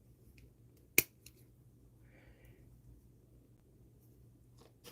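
Knockoff God Hands hobby nippers give a single sharp snip, close and crisp, followed by a fainter click against a quiet room hum.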